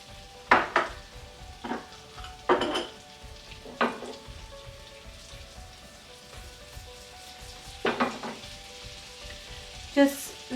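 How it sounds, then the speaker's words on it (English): Cumin seeds sizzle and crackle in hot oil in a pan while cooking dal makhani, with intermittent bursts of stirring and pan clatter over a steady low fry. "Just let the cumin seeds brown a little, not too much, otherwise they can burn."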